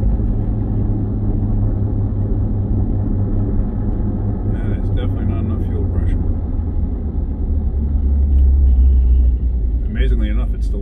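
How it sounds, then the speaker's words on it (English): A Chevy Tahoe 5.3 V8 idles roughly with a fuel pressure problem, a steady low rumble running throughout, fairly loud and close, with faint higher clatter at moments. "Amazingly enough, it's still idling."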